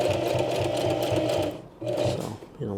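A sewing machine runs in fast, even bursts while stitching a small coin purse, whirring loudly up close, pausing briefly twice before starting again.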